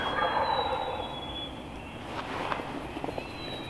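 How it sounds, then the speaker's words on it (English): A wild turkey gobbler sounds off once at a distance in open hill country, a short rattling gobble heard faintly over steady outdoor background noise, with no talking. "There he just gobbled."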